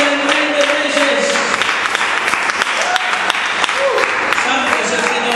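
Sustained, dense clapping from a large crowd fills the space, with voices mixed in and calling out over the steady applause.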